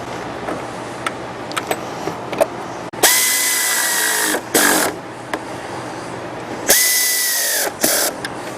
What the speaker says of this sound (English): install your 2 bolts that we took out here